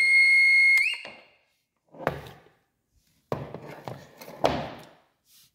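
A Nowak TreasureMax Pulse 2024 pulse-induction metal detector powers on with a loud steady electronic tone that rises in pitch and cuts off, followed by several sharp handling knocks and clatters.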